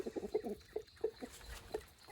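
Short, quiet chicken clucks come in an irregular series of brief bursts over soft background noise, with no one talking.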